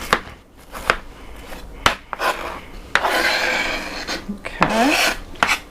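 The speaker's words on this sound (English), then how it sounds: "We're just going to roughly chop the onion to be used in the layers of the casserole" An onion is roughly chopped on a board, a series of sharp, uneven knife strikes against wood with some scraping and rubbing between cuts, close and clear, with no talking over it.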